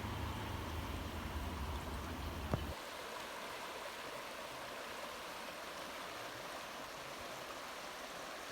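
A clear stream flowing in Borrowdale in the Lake District, a steady, even hiss and rush of moving water, with a low rumble that fades out after the first few seconds; no voices.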